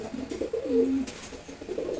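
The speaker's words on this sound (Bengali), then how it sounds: "নরমাদি দুইটারই খুব সুন্দর সাইজ এবং খুবই অ্যাক্টিভ কবুতর এরা।" A pair of racing pigeons, male and female, coo softly at close range in a few low, rolling bursts with no talk.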